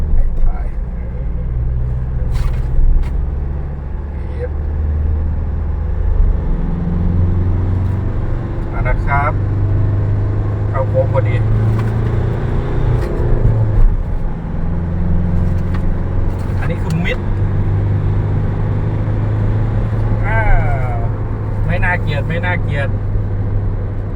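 A 2023 Mitsubishi Triton 4WD pickup with a manual gearbox accelerates from 80 to 100 km/h, a steady loud engine drone and road rumble from inside the cab, with someone talking over it.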